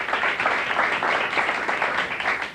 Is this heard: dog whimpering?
no